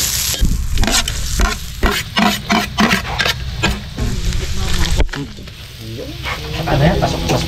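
Butter frying on high heat while being stirred hard, a loud continuous sizzle broken by repeated scraping strokes of a utensil against the pan, close up.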